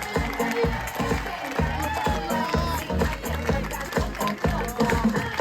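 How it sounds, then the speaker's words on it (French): A live stage-show audience applauds a performer, with heavy rhythmic claps or stomps pulsing steadily over crowd noise and loud voices calling out. "Applaudissements pour Lenny, bravo!"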